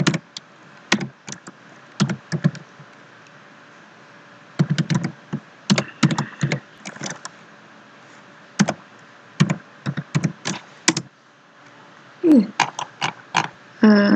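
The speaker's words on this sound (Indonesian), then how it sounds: "di sini kita ketikkan pesan get" A computer keyboard being used to type an FTP get command: bursts of quick, light key clicks in irregular clusters with short pauses, close and clear, ending in a brief scraping rustle.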